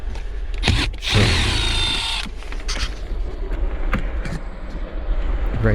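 A power drill runs in a loud burst backing screws out of the Bose stereo radio in a 2007–2008 Nissan Maxima at a scrap yard, with shorter whirs and clicks of handling around it.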